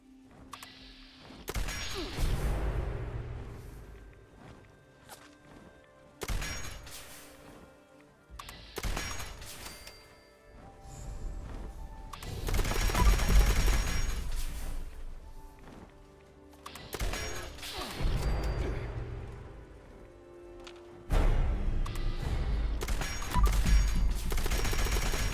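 Scorched enemies in Fallout 76 on Xbox fire guns in repeated bursts, rapid rattling volleys and single cracks that rise and fall, loud and fairly close, with short gaps between exchanges.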